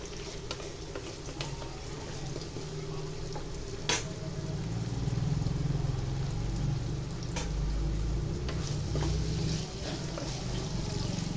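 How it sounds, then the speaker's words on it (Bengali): Paneer sizzles in white oil in a kadai, a steady close crackling fry with scattered pops and spits lasting throughout, no talking. "বেশি ভাজবো না সামান্য একটু ভেজে নেব"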